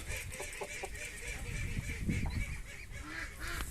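Muscovy ducks in a farmyard pen give soft, honking calls, quiet and somewhat distant, scattered over a low background murmur.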